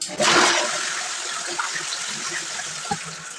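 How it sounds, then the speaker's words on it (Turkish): A toilet flushes once, its bowl holding blue-tinted water from a cleaning tablet: a loud gushing rush that quickly settles into steady draining and trickling, heard alone at close range. "Şimdi sifonu çekiyoruz."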